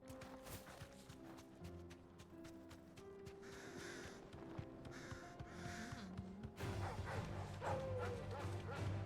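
Dogs barking in the video game Final Fantasy XVI, with a few short barks set against steady in-game music and ambient sound that grows louder toward the end.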